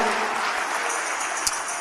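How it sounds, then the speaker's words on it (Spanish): A church congregation claps for the Lord, a dense continuous patter of many hands, fairly loud and steady throughout, with no speech over it. "Démosle palmas al Señor."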